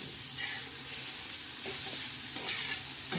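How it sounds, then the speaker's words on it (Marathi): Green chilli thecha with salt is stirred in a hot pan, a close continuous sizzle with a few short spoon scrapes and clicks over a few seconds, no talking. "छान असं हलवून घ्या."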